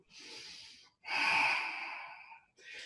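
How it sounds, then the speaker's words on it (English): Deep, slow breaths during a yoga session: a long breathy exhale or inhale, a louder sustained breath, then the start of another, close and clear with no talking. "Keep breathing deeply."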